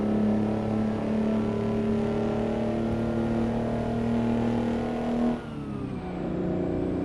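Scania R600 truck engine in American Truck Simulator held at the rev limit, a loud steady harmonic drone sustained for about five seconds before easing off as the revs drop, with no talk.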